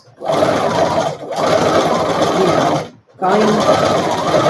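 A sewing machine stitches a cloth face mask seam in steady running bursts, stopping briefly twice between stretches of continuous close whirring.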